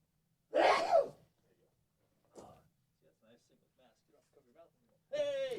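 A single loud sneeze near the mic, followed by quiet breathing and soft murmuring, then a person speaking briefly at the end.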